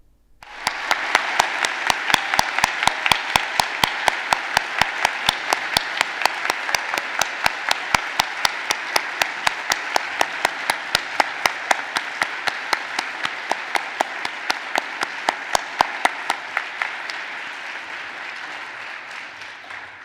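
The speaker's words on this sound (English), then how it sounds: "since we're all warmed up applauding" Sustained applause from a geoscience awards ceremony audience honoring award recipients, a dense steady wash of many hands clapping with a regular beat, holding for about seventeen seconds before trailing off quickly.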